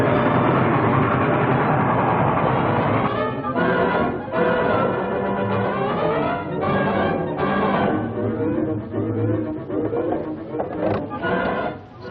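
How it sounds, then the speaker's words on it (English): A train runs on rails in an old film, a continuous loud rumbling and clattering close by with rhythmic surges over twelve seconds, dense mechanical noise throughout and no clear voices. "Stay here till you see the train pulling to a stop."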